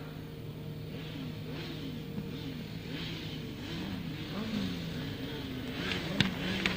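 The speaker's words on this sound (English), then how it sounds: "The revs rise." Grasstrack sidecar engines rev steadily on the start line at a 2002 meeting, a sustained mid-distance motor drone with rising and falling revs, swelling a little toward the end.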